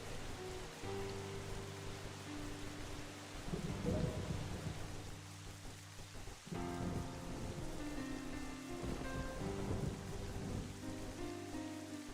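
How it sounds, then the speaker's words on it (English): Steady rain and rolling thunder from a storm in the Legend of Zelda: Wind Waker video game, with loud bursts of thunder over constant rainfall and a sustained musical score throughout. "Also, if the water is flooding down, why is there thunder?"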